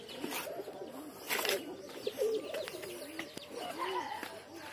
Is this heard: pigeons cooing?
yes